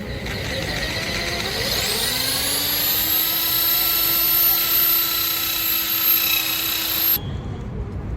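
An electric drill bores a 6 mm hole through the car body of a 2022 Grand Vitara during side step fitment. Its motor whines upward as it spins up, then holds a steady loud, close drone before cutting off abruptly.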